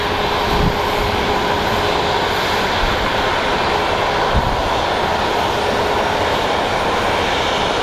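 A JSX jet aircraft at Phoenix Sky Harbor airport produces a steady, loud engine roar that fills the whole stretch without a break, with no talk over it.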